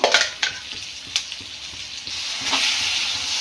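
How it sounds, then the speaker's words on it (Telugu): Green chilli chutney sizzles in hot oil with onions and curry leaves, a steady close crackle broken by a few sharp stirring scrapes, no voices. "దండి ఇది పచ్చడి ఆయిల్కి ఉల్లిగడ్డలకు బాగా పడేలాగా ఇట్లా బాగా ఫ్రై చేసుకోవాలా"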